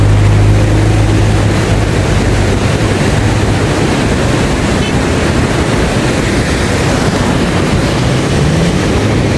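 Water pours steadily from the storm-damaged Iranaimadu reservoir, a loud, continuous broadband rush like surf that carries on unbroken throughout, with a low rumble underneath.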